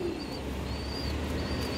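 A male Kaldam pigeon cooing in short, soft, repeated calls over a steady background murmur.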